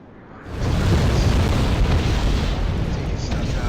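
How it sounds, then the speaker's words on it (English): Bombs dropped by attacking aircraft explode in the real-time strategy game Wargame: Red Dragon, a loud, dense, rumbling roar that bursts in after half a second and keeps thundering without a break to the end. "these guys are coming through dropping bombs"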